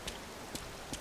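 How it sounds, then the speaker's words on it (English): Rain falling in the crime action game Yakuza Kiwami, heard as three soft, brief patters spaced through a quiet second, faint and with no talk over it. "I don't think I've ever seen it rain in this game"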